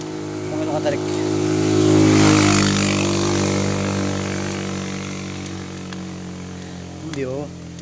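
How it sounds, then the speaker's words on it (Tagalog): A motorcycle engine in low gear strains hard up a steep uphill road toward San Ysiro Falls, with a loud, steady laboring drone throughout and brief voices near the start and end. "Pakinggan yung motor kung ano katarik."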